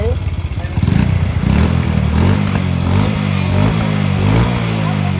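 A motorcycle exhaust revs loudly and close, its throttle blips rising and falling over several seconds, with people talking alongside and a clattering mechanical edge to the engine note.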